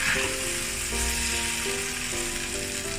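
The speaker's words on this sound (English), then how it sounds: "Stir fry over high heat briefly." Beef chow fan stir-fried over high heat in a wok, a dense, loud, unbroken sizzle filling the whole moment, with a faint tonal hum running underneath.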